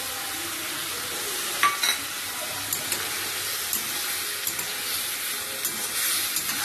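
Prawns and cauliflower curry stir-fried in a pan, with a continuous loud sizzle and irregular spatula scrapes and taps cutting through it.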